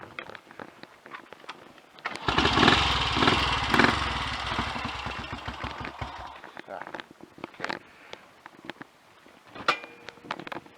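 A Royal Enfield Crusader Sports motorcycle engine fires up and runs loudly for a few seconds with a rough, throbbing beat, then cuts out, leaving scattered clicks and handling noises.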